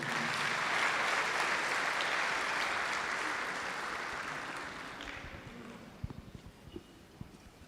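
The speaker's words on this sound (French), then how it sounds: "M. Khalifa Ababakar Traoré, que j'invite à venir prendre la parole sous vos applaudissements." Applause from an audience at an inter-university colloquium, steady and dense for about five seconds before thinning into scattered last claps.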